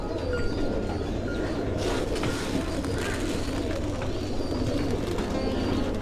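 Pigeons being fed at a shelter for injured and sick birds coo in a dense, continuous murmur with steady background rumble throughout, no voices.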